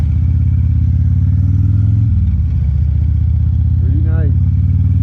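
A motorcycle running a car tire on its rear wheel, with a steady low engine drone throughout, a brief dip around the middle and a faint rising whine near the end, with no speech.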